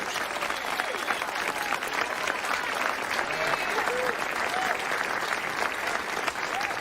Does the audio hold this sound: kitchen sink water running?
no